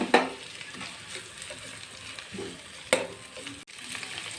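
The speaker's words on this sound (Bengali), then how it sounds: "এখন এটা আমি হালকা করে ভেজে নেব। দিয়ে দিচ্ছি লঙ্কা কুচি, দিয়ে দিচ্ছি ক্যাপসিকাম কুচি," Chopped green chilli and capsicum fry lightly in a pan for street-style chowmein, giving a soft, steady sizzle with a couple of stirring scrapes, fairly quiet and without talk.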